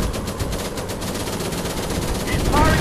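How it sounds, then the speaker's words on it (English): Machine guns rattling in a WWI night dogfight in a virtual reality flight game, loud rapid bursts over a steady engine drone, the fire growing heavier toward the end. "He's firing at me!"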